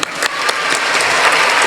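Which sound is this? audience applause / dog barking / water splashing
audience applause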